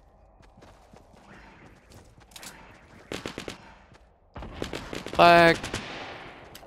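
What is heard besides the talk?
gunfire in video game Fortnite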